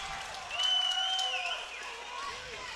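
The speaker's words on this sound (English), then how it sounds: "the crowd is on their feet" Crowd at a boxing match cheering and applauding, a dense wash of clapping and shouts heard at moderate distance, with a commentator talking over it.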